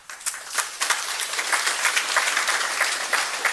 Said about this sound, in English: big hand of applause for them